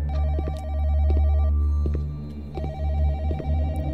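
A telephone rings in the indie horror video game Where is Sarah?, with a warbling electronic trill in two long bursts over a low ambient drone and scattered clicks.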